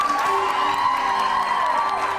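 An audience claps and cheers steadily, a dense, continuous wash of applause with whoops that holds level throughout.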